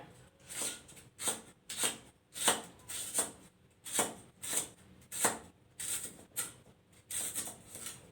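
Ingredients for a Thai catfish curry are pounded in a mortar, a dozen sharp, evenly spaced thuds in a steady rhythm, close and fairly loud with no talk.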